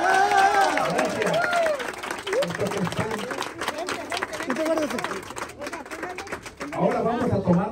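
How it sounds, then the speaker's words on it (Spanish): A crowd at a gathering in Ensenada, Mexico, bursts into steady applause lasting several seconds, with raised voices and cheering mixed through the clapping and a voice rising again near the end. "¿Qué les parece si finalizamos dando un fuerte aplauso para todo México"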